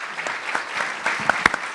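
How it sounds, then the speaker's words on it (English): Audience clapping for the candidates at a 2016 Democratic club congressional debate in Great Neck, a steady patter of many hands with a few sharper nearby claps standing out, no voices over it. "Let's have a round of applause for all the candidates."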